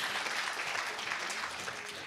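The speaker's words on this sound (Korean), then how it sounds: "큰 박수 부탁드립니다." Audience applause at the close of a Korean tech conference talk on AI avatar technology, a steady dense wash of clapping filling the whole stretch at moderate level with no voices over it.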